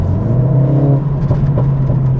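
A Mercedes CLA45s AMG with a new aftermarket exhaust revs loudly up close, a deep rising engine growl that drops back and pulses in short bursts.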